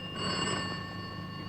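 A telephone rings with an incoming trunk call from Japan in an old Hindi film scene, a steady continuous bell ring heard alone at moderate loudness.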